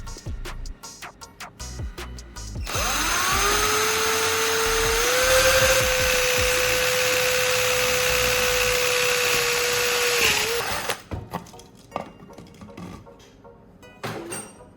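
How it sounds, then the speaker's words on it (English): A drill bores a hole through a plastic bottle cap, whining in one sustained run of about eight seconds that rises slightly in pitch, with handling clatter before and after. "Drill a hole in the bottle cap."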